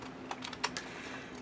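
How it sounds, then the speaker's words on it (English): Scissors snip straight across strips of scrap paper for card making, giving a few quiet, sharp cuts spaced close together at a steady pace, heard close up. "I just take a pair of scissors and go straight across"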